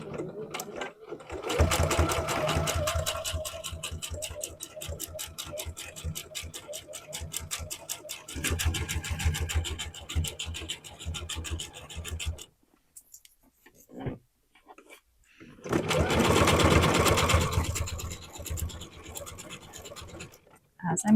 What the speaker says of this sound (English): And this will sew just a little bit inside of what I just did, giving me a 3/8 inch seam allowance.